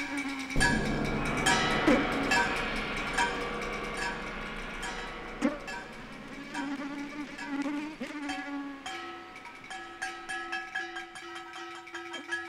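Many mosquitoes give a dense, high-pitched whining drone close to the ear, with several overlapping tones that waver and shift in pitch continuously.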